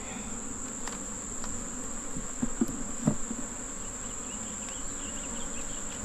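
Honey bees buzz around an open beehive in a steady, faint drone with a constant high whine, occasional individual bees flying close past.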